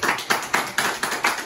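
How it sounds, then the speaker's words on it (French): A small audience claps at a French radiology congress, a sparse, rhythmic handclap pattern of about six distinct beats, close and moderately loud. "Et si on se faisait applaudir."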